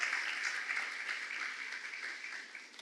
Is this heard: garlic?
no